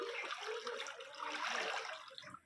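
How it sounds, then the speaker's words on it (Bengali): Water sloshes and splashes continuously as hands stir through floodwater that has filled a house, a dense close wet churning that fades near the end, with no voices. "চলো একটু জল ঘেঁটে নিই জল ঘেঁটে আবার স্নান করবো"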